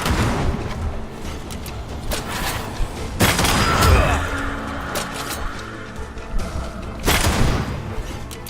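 Gunfire from a corpse enemy in Banishers: Ghosts of New Eden, several sharp loud shots and booming blasts bursting out at intervals over a rumbling game soundscape.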